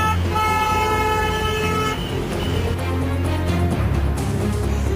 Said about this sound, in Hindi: लोग अपने गुस्से का इजहार हॉर्न बजाकर कर रहे थे।